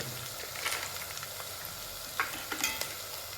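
Gravy masala frying in a pan in a home kitchen, a steady soft sizzle with a few sharper scraping and stirring clicks near the end, no voices.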